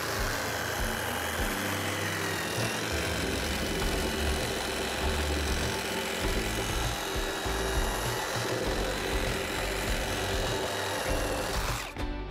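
A power saw cuts steadily through a wooden beam clamped on Toughbuilt TB-C700 sawhorses, a loud continuous buzzing grind with rough texture that holds for about twelve seconds before cutting off abruptly at the end.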